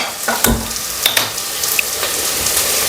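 Three dried red chillies frying in a pan of masala for a chicken gravy, a steady close sizzle with a few sharp crackles and pops throughout.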